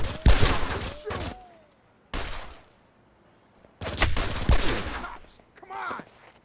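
Gunfire from the Made Man video game: loud bursts of rapid shots in two main volleys separated by a short pause, with a brief single burst between them and a fainter trailing burst at the end, ringing ricochet-like tones mixed in.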